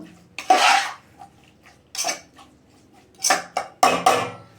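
A spoon scrapes and clanks against a pan of jackfruit curry in a handful of separate stirring strokes, with short quiet gaps between them.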